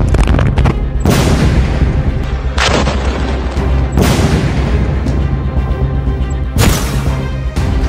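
Heavy explosions strike Gaza during the Israel-Hamas war, with repeated deep booms and blasts that roll out over a loud, continuous rumble.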